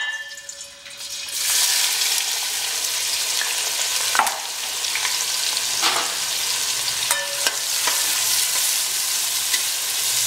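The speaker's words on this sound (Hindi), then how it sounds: "इस घी के अंदर हम ये प्याज डाल देंगे।" Sliced onions frying in hot ghee for a Delhi-style mutton nalli nihari: a loud, dense, continuous sizzle with occasional scraping stirs and clicks, no voices.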